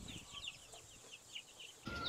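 Chickens, including Black Australorp and Rhode Island Red birds, cluck in repeated short bursts on a poultry farm, steady and close with a light background hum, no talking.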